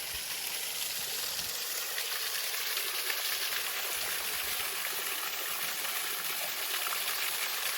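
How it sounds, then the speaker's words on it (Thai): Water flows down a waterfall in a constant, close rushing hiss, steady and full-bodied throughout with no voices over it. "นี่ก็เป็นน้ำตกที่ น้ำพวกนี้ไหลลงไปข้างล่างนะ"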